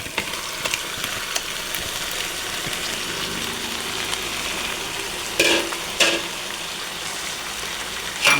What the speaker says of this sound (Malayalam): നമുക്കതിലേക്ക് ലിവർ ഇട്ട് കൊടുക്കുന്നു.